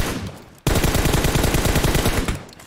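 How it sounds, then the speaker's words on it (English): Rapid automatic gunfire from the mobile battle-royale game PUBG Mobile: a sudden loud sustained burst of evenly spaced shots lasting about two seconds, preceded by quieter game noise, with no talking. "Okay, I will shoot."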